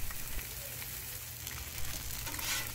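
Sausage patties and bacon frying side by side on a Blackstone 22-inch griddle, a steady close sizzle and crackle of hot fat that continues without a break.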